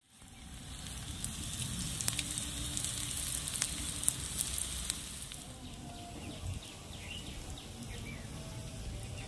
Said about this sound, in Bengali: আমি একটা কড়াই নিয়েছি, জাস্ট একটু সর্ষের তেল নিয়েছি আর পেঁয়াজগুলো এরকম হালকা ভেজে নিচ্ছি